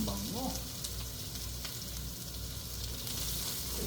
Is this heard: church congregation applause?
no